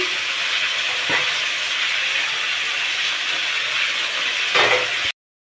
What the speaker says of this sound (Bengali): মাংসগুলো এই যে দিচ্ছে চলো একে একে দিচ্ছে মাংসগুলো কষে নেবে এবারে